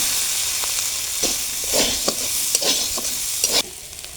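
Fried potato and taro are stirred into a sizzling spice masala for a vegetarian soybean curry, a steady frying hiss broken by repeated scraping strokes of a spoon against the pan.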